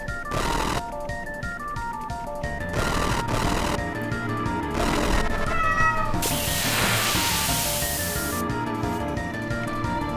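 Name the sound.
cat meowing alert sound effect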